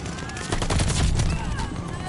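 An MP-40 submachine gun fires a loud, continuous automatic burst in the shooter Call of Duty: Vanguard, rattling close up with other game noise mixed in.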